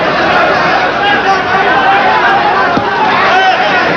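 Boxing arena crowd during the fourth round of a Serrano vs. Valdez junior lightweight title fight, a steady dense murmur of chatter and hubbub throughout, loud and continuous with no single outburst.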